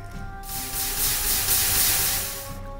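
Flowing water in the video game Minecraft makes a close, steady rushing hiss that swells up, holds and eases off slightly, with no voices over it.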